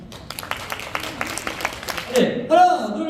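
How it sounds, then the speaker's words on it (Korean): Applause at a senior model award event, a scattered run of hand claps with distinct individual slaps under a speaking voice, then giving way to louder voices and a brief tonal sound near the end. "다시 한번 큰 박수 부탁드립니다"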